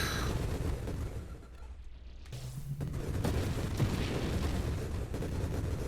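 Violet grenades burst in the space shooter video game Nova Drift, a dense run of rumbling explosions with a brief quiet dip midway, followed by sustained crackling blasts, loud and without speech.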